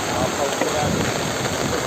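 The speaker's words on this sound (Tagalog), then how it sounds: "Grabe, walang tigil mula kagabi, no? Yung ulan. Lakas." Dense, steady hiss of heavy typhoon rain pouring down, loud and continuous, with faint voices mixed in underneath.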